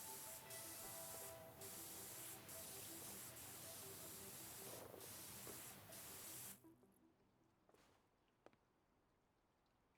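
A pressure washer sprays steadily in the video game Powerwash Simulator 2, a loud continuous hiss for about six and a half seconds before it cuts off, leaving faint quiet with a few small clicks.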